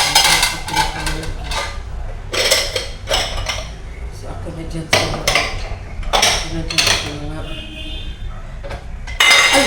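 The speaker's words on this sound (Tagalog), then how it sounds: "Ako na dyan sa mga pinggan." Plates, pots and cutlery clink and clatter while dishes are being washed up, a loud nearby string of knocks and chinks, with people talking over much of it.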